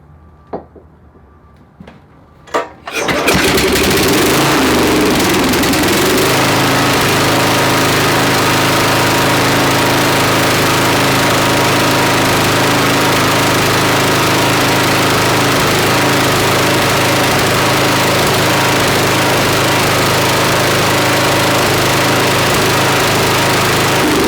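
A Snapper SR-series riding mower with a 10HP Briggs and Stratton engine, stored ten years, cranks with a few clunks and then roars to life, running loud, steady and close for over twenty seconds.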